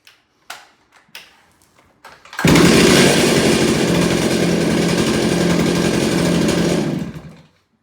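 Stihl 028AV Wood Boss chainsaw after a carburetor rebuild: a few light clicks and taps, then the engine bursts into a loud, steady, close-up roar for about five seconds before cutting off.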